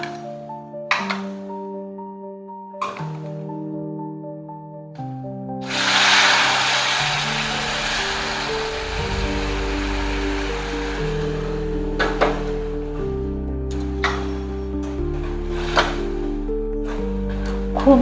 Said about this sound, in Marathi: आपण त्यात गरम पाणी घालून घेऊ।